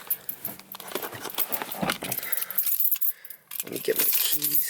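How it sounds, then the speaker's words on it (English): Keys for a 1991 Honda Accord LX sedan jangle close by in several short metallic bursts of rattling and clinking, with a voice speaking at moments between them. "Let me get my keys."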